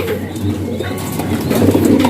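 Inbred breeder racing pigeons kept in a loft coo with low, throaty murmurs close by, set against a steady hum and some background noise.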